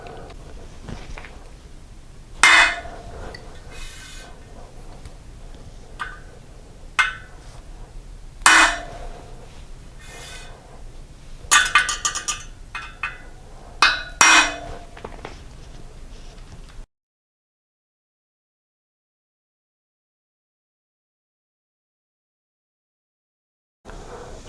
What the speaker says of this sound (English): if you tap hard on the head, it'll seat it into the hole in the rim